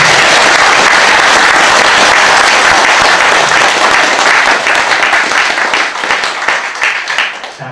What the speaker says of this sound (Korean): 우리 황 소장님 박수 한번 주시죠